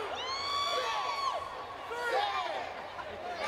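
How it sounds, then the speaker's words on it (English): Wrestling crowd at an O.C.W. professional wrestling show counting along in unison, loud chanting and whooping voices with children shouting, steady and fairly close, filling the whole moment. "Bruisador calling for the crowd to count with them"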